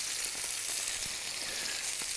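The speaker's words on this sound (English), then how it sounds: "the pan is sizzling" Salmon frying skin-side down in oil in a pan over medium heat, giving a steady, close hissing sizzle with faint crackles throughout and no talking.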